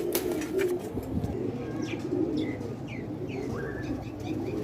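A black-faced Sheikhan pigeon coos in soft, low repeated phrases, close by, over a steady background hum, with a few thin higher chirps from other birds.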